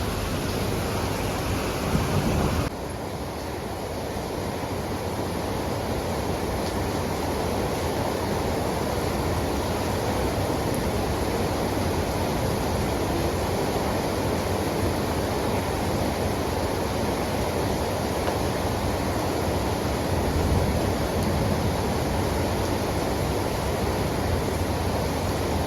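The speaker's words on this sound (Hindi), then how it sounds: "अभी मैं आई थी जस्ट और देखी कितनी तेज़ से बारिश आई है।" Heavy monsoon rain pouring steadily, a dense loud hiss with splashing water close by, continuous and unbroken with no voices.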